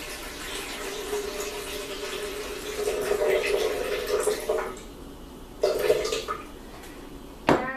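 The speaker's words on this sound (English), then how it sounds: "I'm just going to pour 2 cups of water into the blender." Water pours steadily into a blender, two cups' worth, with a continuous splashing gush that swells midway, then a couple of brief louder splashes near the end, recorded close by.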